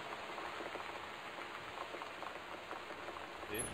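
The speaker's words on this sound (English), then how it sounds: "The Northwest Weather Service reports high winds and torrential rain conditions" Rain falls steadily in the video game Gone Home, a soft, even patter of drops on a surface that stays constant and fairly faint throughout, with no speech.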